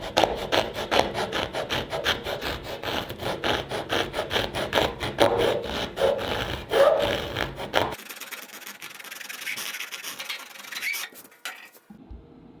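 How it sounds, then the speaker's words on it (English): Rhythmic rasping strokes of sandpaper rubbing teak boards on a boat, steady back-and-forth for several seconds, then a quieter, sparser scraping stretch before stopping. "I'm just barely sanding this just to get the last bit of it off"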